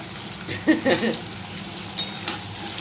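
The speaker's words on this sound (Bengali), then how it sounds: "আমি আলুটা ভাজতে দিয়ে দিয়েছি" Potatoes fry in oil in a wok with a soft, steady sizzle, broken by a few scraping stirs and light metallic clinks of a utensil against the pan.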